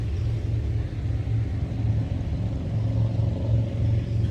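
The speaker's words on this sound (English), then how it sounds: "Lots of traffic today" Traffic rolls along a road in Spearfish Canyon, a steady low engine rumble from passing cars, continuous and fairly close, with no talking over it.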